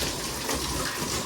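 Water sprays hard and continuously from a hose while a muddy Thar is being washed, a loud, close, unbroken hiss with no talk over it.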